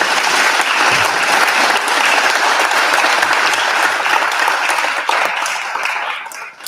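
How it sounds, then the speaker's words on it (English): An audience at a law enforcement panel applauds the panelists with a loud, dense, sustained burst of clapping that holds steady, then thins out and fades in the final second. "Can we give a hand clap?"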